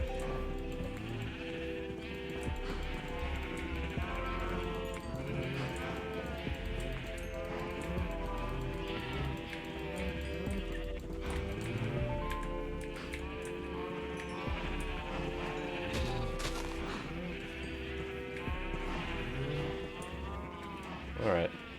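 Blocky video-game sheep bleat repeatedly among other farm animals, with a person talking continuously over the livestock noise throughout.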